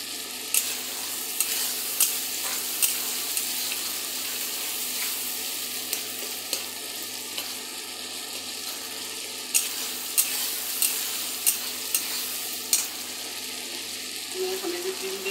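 Tomato masala is stirred and sautéed in a pan, with a continuous sizzle and a regular series of spoon scrapes and taps against the pan at a steady rhythm.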